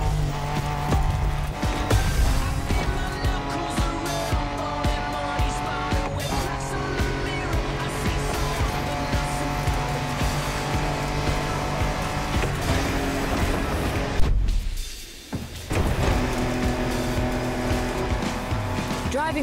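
Engines roar and tires skid as cars race off-road in The Crew Motorfest video game, a loud continuous drone with shifting pitch and a brief dropout near the end, while a voice talks over it.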